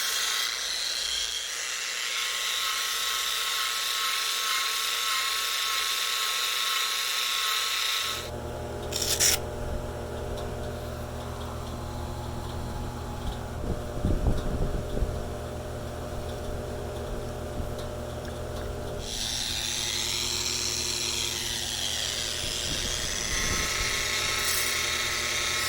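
A Vevor wet grinder polishes larger rocks in steady working passes, a loud continuous grinding rasp with shifting pitch as the stone is pressed against the wheel, briefly cut off then resuming near the mic.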